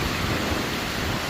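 Steady rain falls outdoors as a dense, continuous broadband hiss with a low rumble beneath, even and unbroken throughout, with no voices.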